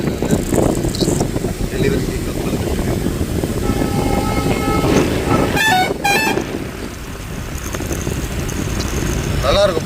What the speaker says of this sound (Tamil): இப்போ சரக்கு ட்ரெயின் போயிட்டுருக்கு நிலக்கரி ட்ரெயின்